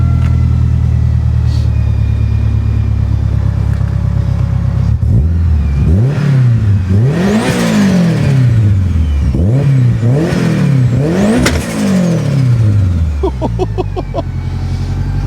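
A 500bhp Honda Civic Type R EP3 engine idles loudly, then is revved hard in repeated rising and falling bursts, close and dominant throughout.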